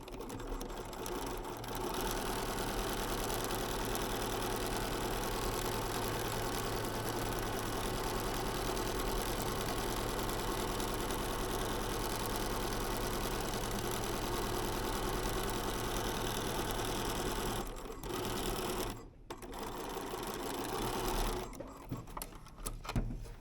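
A sewing machine runs top stitching on a men's shirt with snaps, a continuous close mechanical whir held steady for most of the stretch before it stops and restarts in short bursts near the end.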